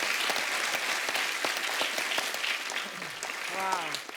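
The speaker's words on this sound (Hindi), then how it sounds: "सबसे पहले इस बात के लिए तालियां" Audience applause at a comedy show fills the scene as dense, steady clapping from a crowd, with a host's voice talking over it and briefly rising near the end.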